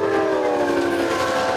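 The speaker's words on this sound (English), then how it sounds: "It was an Amtrak train that morning, running late, going at a much faster speed than a freight train." An Amtrak passenger train runs fast past a railroad crossing near a high school, making a loud, steady rushing roar with sustained tonal bands that could be a horn, continuous for the whole short stretch.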